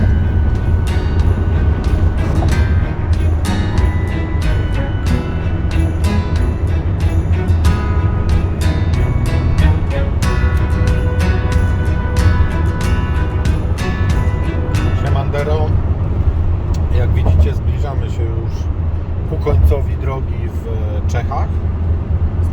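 A car is driving on a dry road toward Brno at 9 degrees with moderate traffic. A loud, steady engine and road rumble holds for the whole stretch, with clicking and higher tones riding over it.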